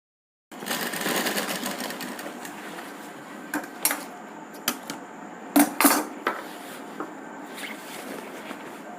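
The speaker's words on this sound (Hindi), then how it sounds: "हम अब इसी पे सिलाई लगा देंगे।" A sewing machine stitches a kurti, its motor whirring steadily with scattered sharp clacks and knocks from handling, recorded close with no speech.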